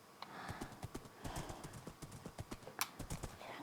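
Horse hooves clip-clop in Minecraft, sounding as a steady run of sharp, evenly spaced clops at close range with no talk. A brief whinny-like tone breaks in near the end.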